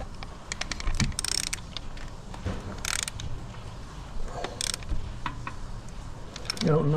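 A ball joint splitter tapped onto the lip of a crankshaft pulley on a 2.0 16v Vauxhall Cavalier, several sharp metallic knocks at irregular intervals with rattling tool noise and brief talk.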